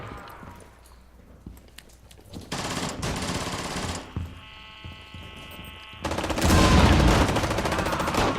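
Video game gunfire in Rainbow Six Siege, with bursts of shots in several loud segments that grow denser and louder toward the end, rattling over ambient game noise.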